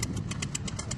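A classic wooden motorboat named Apache idles on a lake with a steady low rumble, and faint rhythmic ticking pulses sit above the engine drone.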